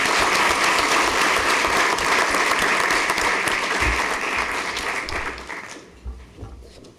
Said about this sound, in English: We'll give a round of applause regardless.